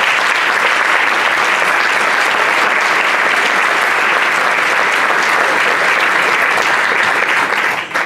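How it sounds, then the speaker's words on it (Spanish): A loud, sustained round of applause from the audience at the IX Certamen Alcalá Gastronómica awards ceremony, dense, even clapping filling the whole stretch and fading slightly at the very end. "Un aplauso, por favor."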